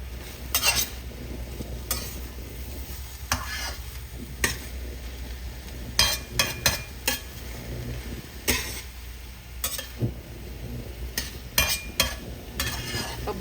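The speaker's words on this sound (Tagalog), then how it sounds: "Haluin ko lang po." A spatula stirs sautéed bitter gourd (ampalaya) with egg in a pan, producing repeated scraping strokes and clinks over a low background sizzle, with no speech.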